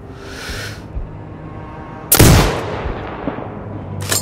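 A single loud sniper rifle shot rings out in Sniper Ghost Warrior Contracts 2, a sharp crack with a rolling echo that fades over a second. Quieter game ambience comes before it, and another abrupt burst follows at the end.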